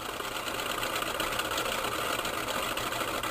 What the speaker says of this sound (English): we're going to turn off the power